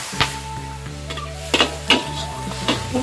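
Thai palo braising sauce is poured into Mama instant noodles stir-frying with mixed offal in a pan, giving a soft sizzle with scattered stirring clinks and scrapes over a steady kitchen hum.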